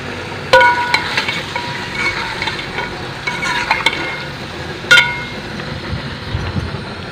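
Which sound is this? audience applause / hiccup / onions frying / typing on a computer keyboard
onions frying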